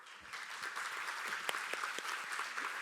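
Audience applause welcoming the panelists at a business and tourism conference CEO panel, a steady, dense clapping from a sizable indoor crowd that holds evenly throughout without talk.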